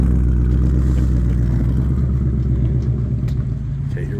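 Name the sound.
Ford Mustang Dark Horse engine with Corsa H-pipe exhaust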